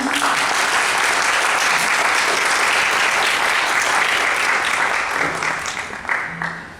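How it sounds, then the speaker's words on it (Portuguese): An audience at an academic event greets a professor with sustained, dense applause that holds steady for several seconds, then thins and fades toward the end. "Palmas"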